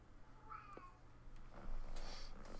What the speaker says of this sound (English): he just starts meowing